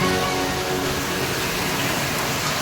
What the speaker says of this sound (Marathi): पा कसा पाऊस आलाय